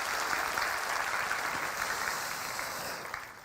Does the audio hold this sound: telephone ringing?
no